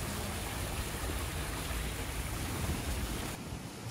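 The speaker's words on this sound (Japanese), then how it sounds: "綺麗な川と水車、里山の風景そのものです。" A clear river runs beside a water wheel on the grounds of a rural hot spring inn, giving steady, close rushing water noise that holds evenly throughout with no voices.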